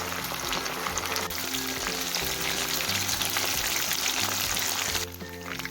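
Chicken pieces coated in masala fry in hot oil with a steady, dense sizzle and crackle that runs close and continuous, easing slightly near the end.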